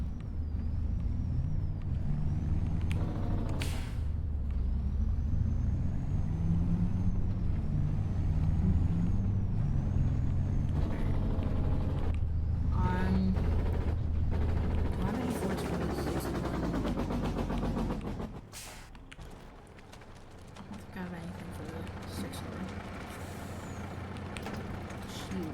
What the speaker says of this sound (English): I'm gonna go pull this truck around back.